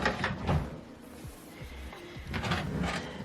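A bathroom vanity drawer is slid open and shut several times, with soft wooden thumps and sliding scrapes close by, amid light handling noise.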